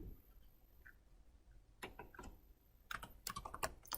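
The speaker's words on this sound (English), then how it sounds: "So I'm typing ping" Typing on a computer keyboard while entering a ping command to another virtual machine, heard as scattered clusters of close key clicks, quiet at first and then a quicker, louder burst of keystrokes near the end.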